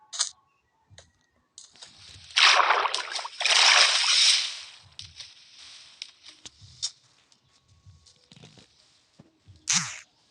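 Bursts of splashing and sloshing water with scattered clicks and small taps as a dog is bathed in Minecraft, loud in two stretches then quieter, no talking.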